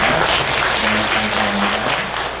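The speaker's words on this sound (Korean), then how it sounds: "여러분 감사의 박수로 감사해 주시기 바랍니다." Sustained applause from a church congregation at a Christmas service, a steady dense clatter of many hands filling the room throughout, with a faint voice or tone murmuring low underneath.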